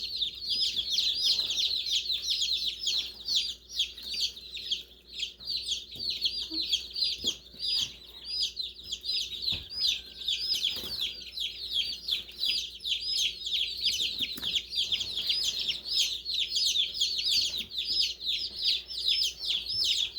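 Baby chicks peep continuously in a small box indoors, a dense chorus of high, rapid chirps from several birds layered over one another, close and steady for the whole stretch with faint handling noises beneath.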